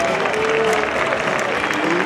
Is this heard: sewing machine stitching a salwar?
no